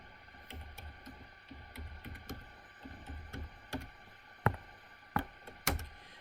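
Calculator buttons pressed in a quick irregular series of light plastic clicks, with a few sharper taps near the end, close and fairly quiet in a quiet room.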